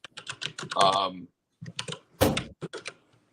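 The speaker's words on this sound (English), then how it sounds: "I don't know if you're typing" Keys on a computer keyboard clatter during a talk show call, with quick clicks mixed in among people talking.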